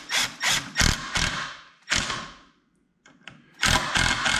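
A drill drives a self-tapping GRK screw into a threaded metal tenon on a rail prototype, in several loud short whirring bursts separated by brief pauses and a quiet gap.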